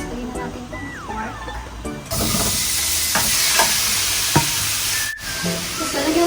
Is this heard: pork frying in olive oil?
yes